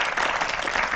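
A studio audience claps steadily, a dense wash of many hands at a moderate level throughout the brief moment, with no voices over it.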